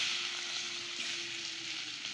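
Eggs hiss and sizzle steadily in a frying masala of chilli and turmeric powder for an egg biryani, a continuous close sizzle heard alone at an even level.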